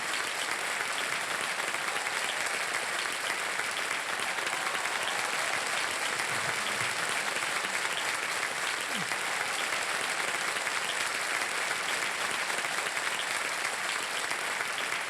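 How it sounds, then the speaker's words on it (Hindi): Loud, steady applause from a studio audience on the KBC game show, dense clapping that holds evenly throughout with no break. "बहुत जोर से आपके शायद माता पिता थे, उन्होंने ताली बजाई थी"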